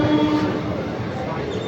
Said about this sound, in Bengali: ট্রেন ঢুকে গেছে, আমরা দাঁড়িয়ে আছি।